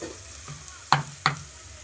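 Garlic paste hits hot frying spices in a pan, giving a soft, steady sizzle with two sharp scraping stirs close by, quiet overall and with no talking.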